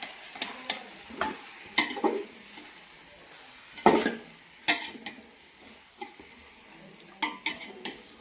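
Stirring biryani in a pot at home: repeated scraping and clinking strokes of a spoon against metal, with faint sizzling from the pan between the irregular bursts, close and with no talk.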